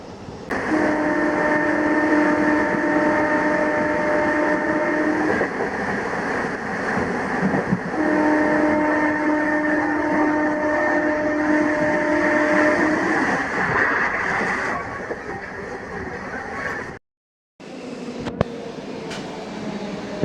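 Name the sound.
Kondaveedu Express train running, Machilipatnam to Yesvantpur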